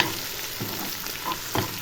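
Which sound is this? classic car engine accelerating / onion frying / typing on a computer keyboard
onion frying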